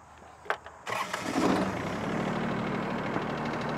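A Kioti CS2220 or CS2520 sub-compact tractor's diesel engine cranks briefly after a couple of clicks, catches and settles into a smooth, even idle, close and fairly loud, with no talking.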